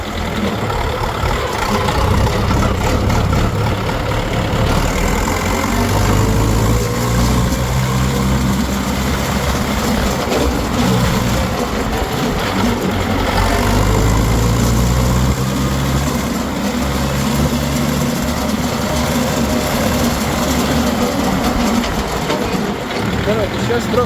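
A mini tractor engine runs during a speed test drive on uneven ground, a loud, steady, rumbling drone that holds close throughout with slight shifts in pitch.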